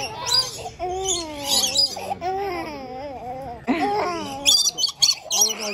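A pet bird squawks and screeches in a home, a string of loud, wavering, pitch-bending calls with brief gaps, close to the microphone.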